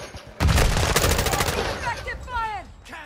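Automatic gunfire in a Call of Duty: Modern Warfare II match rattles out as a loud, rapid burst of shots, then stops and game voices shout over the quieter background.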